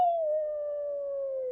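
A wolf gives a single long howl, a clear sustained tone that slides slightly downward in pitch, heard alone against silence.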